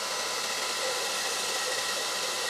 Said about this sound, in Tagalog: may blower ka na, may pampatuyo ka na ng buhok